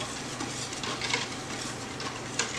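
Salt being stirred into coconut milk cold-process soap batter, a close wet swishing and gritty scraping with a few light clinks of the utensil against the container.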